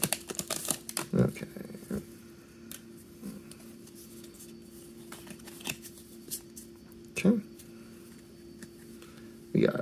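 Pokemon card packs from a Sword and Shield Darkness Ablaze set are torn open and handled: faint crinkling wrapper rustles and soft card flicks, with a few louder handling bumps, mostly quiet and close.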